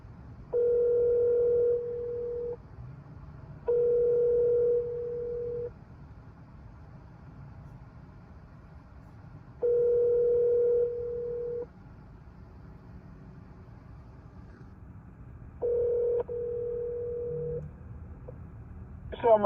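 Outgoing call from a Porsche Macan EV to the Porsche emergency center: a repeating ringback tone sounds in four evenly spaced bursts, clear and steady over faint low cabin rumble.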